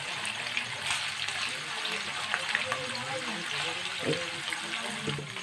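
Paneer pieces shallow-frying in a pan make a continuous soft, hissing sizzle with small crackles throughout, and a voice seems to come in faintly at times.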